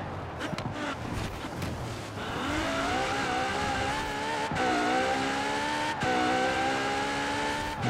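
Car racing through Edinburgh in Forza Horizon 4, in a sprint race: a loud engine climbs steadily in pitch through the gears, with brief shifts and the bump of the road, and no talk over it.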